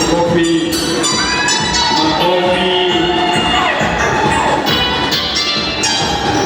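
Church congregation at an album launch breaking into sustained applause and cheers, loud and continuous, with shouting voices and music layered over the clapping.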